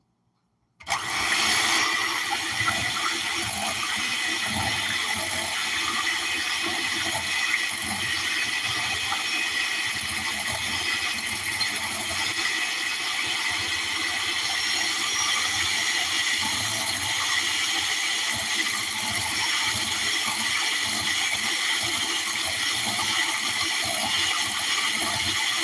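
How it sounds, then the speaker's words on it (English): Box cake batter with sour cream being beaten by an electric mixer, a steady whirring drone that starts abruptly and runs loud and unbroken to the end, with no talking. "Now let's mix this together."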